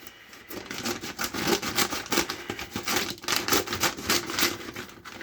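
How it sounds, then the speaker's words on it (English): Rapid crisp snipping and clicking, close by, with rustling as scissors cut open a package of silver coins, continuous for several seconds. "here's the scissors. So let's cut this open."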